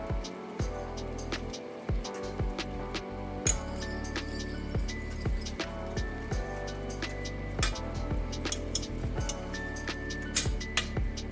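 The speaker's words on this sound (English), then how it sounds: "you'll want to stir them around and incorporate them into your ramen." Seasonings being stirred into chicken ramen, steady faint clinks and ticks of a utensil against the bowl repeating in an uneven rhythm over a low background hum, no voices.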